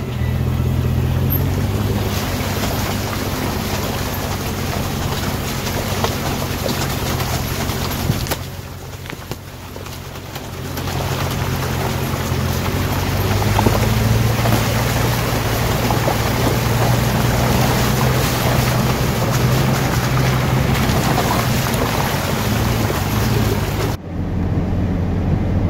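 Car driving through a creek, with a continuous loud rumble of engine and tires mixed with rushing, splashing water, interrupted by a brief lull midway before the churning resumes.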